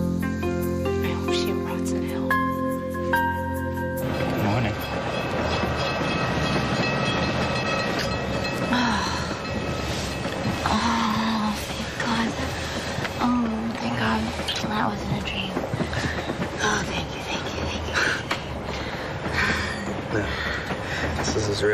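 Train rolling along the rails in a soap opera scene, a continuous loud rumble with rhythmic clatter under music at first, then people talking over it.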